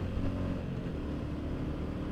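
A Royal Enfield Classic 350 motorcycle cruises at speed in fourth gear, its steady engine drone mixed with constant wind rush, heard without talking.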